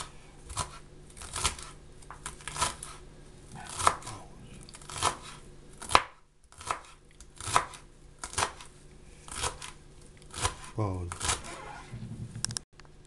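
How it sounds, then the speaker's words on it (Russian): A knife finely chopping lungwort stems on a board gives a steady series of sharp, close knocks, roughly one or two per second, with a person talking quietly between the cuts. "Эта трава срывается, стебли шинкуются мелко ножом."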